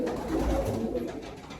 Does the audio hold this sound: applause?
no